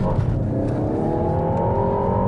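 A hot hatch lapping a race track, its engine droning loud and close with a rising pitch as it accelerates out of a corner where the front wheels spin a little. No one speaks.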